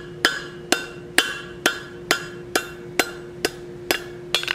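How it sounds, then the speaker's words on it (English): A hammer strikes hot steel being forged into an oak leaf, about ten sharp ringing blows in a steady, evenly spaced rhythm, close and loud. "Gonna hammer that just a little bit"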